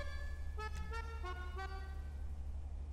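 In the GTA 5 tuning menu for a Coil Brawler, a few short honks of a car horn sound over a low steady hum, moderately loud, with a brief pause and then one last toot.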